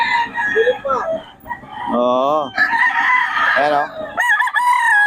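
Roosters at a gamefowl farm in Bocaue, crowing loudly and close by in several long wavering calls that overlap, with clucking and someone talking between and over them.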